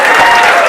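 Applause from an audience in a face-to-face classroom lecture batch, a dense, steady wash of clapping filling the short moment at close range with no break.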